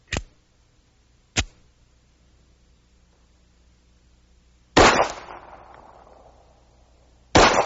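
Loud, sharp reports from a handgun firing 185 grain Winchester Silvertip ammunition at night, four shots spaced irregularly with one longer echoing tail, alone without talk.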